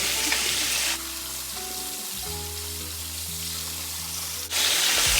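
Cube steak sizzles steadily in a hot pan for Sunday dinner, a loud continuous hiss with a brief dip in the middle as the meat is flipped or moved, then full sizzle again; no talking.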